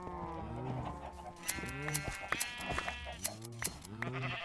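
Minecraft sheep bleat repeatedly in a game world, a string of several wavering bleats overlapping one another at a fairly quiet level, with no talking.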